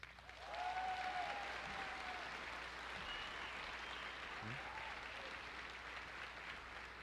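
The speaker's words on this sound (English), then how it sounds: "Please give a round of applause for Luis Leyva." Sustained applause fills a graduation ceremony hall, a steady wash of clapping from a large audience that holds at an even level for several seconds, with no talking over it.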